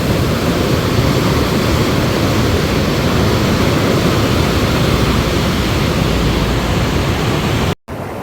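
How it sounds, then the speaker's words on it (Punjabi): Fast, swollen river water rushes through the Harike headworks at Harike Pattan, a loud, dense, unbroken roar close to the microphone that cuts out briefly near the end. "ਤੁਸੀਂ ਪਾਣੀ ਦੀ ਆਵਾਜ਼ ਦੇਖੋ ਕਿੰਨੀ ਤੇਜ਼ੀ ਨਾਲ ਜਾ ਰਿਹਾ ਹੈ"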